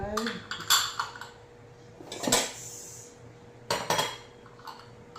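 Small sauce dishes clink and knock together as they are lifted out of packaging, a few sharp ceramic chinks in short clusters separated by quieter rustling moments.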